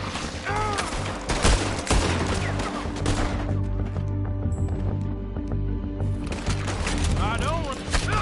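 Rapid bursts of gunfire ring out in a Red Dead Redemption 2 shootout on PS5, loud and close, mixed with game music and voices talking throughout.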